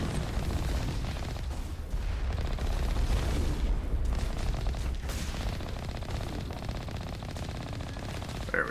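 Heavy vehicle cannon fire in the Mass Effect game booms in a dense, continuous barrage of rapid blasts and rumbling explosions, loud and close throughout.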